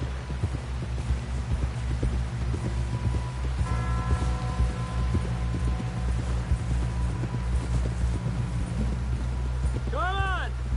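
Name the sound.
horse galloping hooves in video game Red Dead Redemption 2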